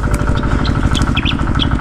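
A farm machine engine runs beside a rice field, chugging loud and close in a steady, fast rhythmic pulse with no voices over it.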